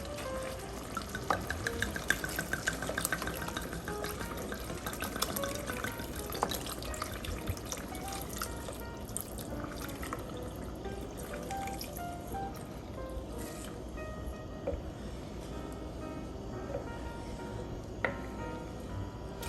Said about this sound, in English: And I'm adding this Spanish red wine in. So we're gonna put in 1 full bottle.